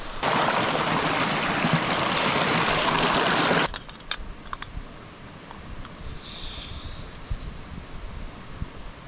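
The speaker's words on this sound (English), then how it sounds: "I'm gonna get some water. Yeah, from the river." River water rushing in a steady broadband wash at a Scottish mountain campsite near Ben Macdui, loud and close for the first few seconds, then cut off, leaving faint outdoor ambience with a few small knocks.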